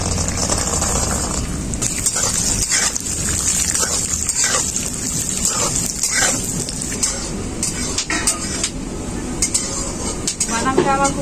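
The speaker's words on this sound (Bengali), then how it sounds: "এখন আমি কাঁচা বাদামগুলো তেলের মধ্যে ভেজে নেব।" Raw peanuts frying in hot oil in a pan, a continuous broadband sizzle with occasional stirring scrapes and clinks, steady and close throughout.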